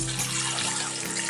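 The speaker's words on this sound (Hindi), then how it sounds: "अब हम इधर डालेंगे 2 लीटर पानी हमने डालना है।" Water poured into a cooking pot while preparing mutton mandi, about two litres going in as a steady continuous splashing stream, close and fairly loud, with no talk over it.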